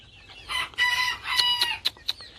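A rooster close by lets out harsh, strained crows and clucks in short bursts, ending with a few sharp squawks.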